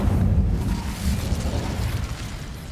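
A fire spell bursts out in Hogwarts Legacy, a dense, roaring whoosh with rumbling low-end booms that keep going steadily for nearly three seconds, loud and close.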